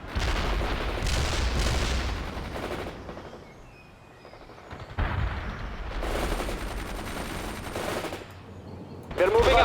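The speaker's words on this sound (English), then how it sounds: "Fire some grenades at the enemy." Soviet infantry in a World in Conflict battle firing grenades and guns at the enemy: loud bursts of rapid automatic gunfire with booming impacts, separated by a short quieter lull, ending in another sharp blast.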